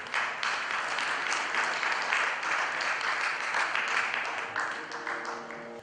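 Audience applause at the Karmaveer Puraskaar awards ceremony: sustained crowd clapping that holds steady and fades slightly toward the end, where a voice briefly sounds under it.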